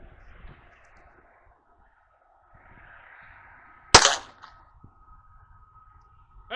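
A .25 ACP pistol fires a single sharp, loud gunshot through a chronograph outdoors, preceded by quiet rustling and low background noise, followed by a brief fading echo and a faint click at the end.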